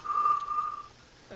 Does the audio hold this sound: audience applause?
no